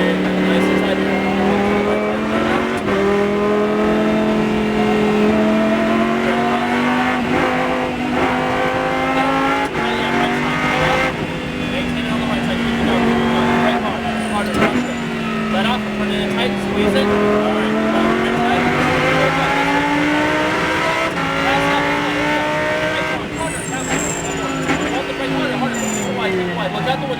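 From inside a Lamborghini Super Trofeo race car lapping the Exotics Racing track in Las Vegas, the engine roars loudly and continuously, its pitch rising and falling through shifts, while an instructor talks over it.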